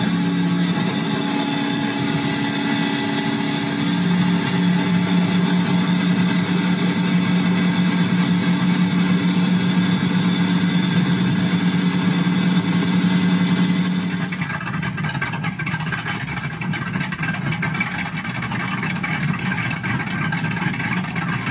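Deep, throaty twin supercharged 496 Chevrolet V8 engines of a stern-drive boat, a Miami Vice replica, rumble steadily at close range with a strong low drone, then the tone shifts slightly rougher partway through.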